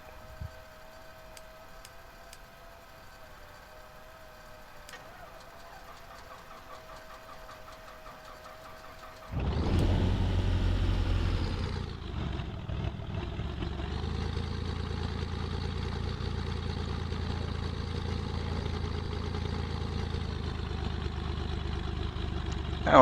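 SF260 light aircraft piston engine cranking into life after a quiet cockpit hum, then settling into a loud, steady idle rumble heard from inside the cockpit.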